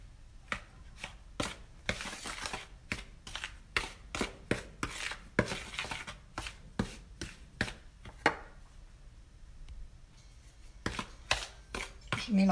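Salt being mixed with flour and semolina for Moroccan beignets, a run of quick, crisp taps and scrapes of a utensil against the bowl in uneven rhythm, close and fairly quiet.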